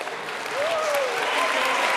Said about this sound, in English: You got a big cheering section here